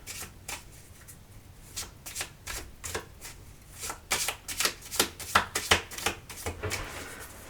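Tarot cards being shuffled by hand, a series of soft riffling snaps and taps that grow denser and louder toward the end, close and alone in a quiet room.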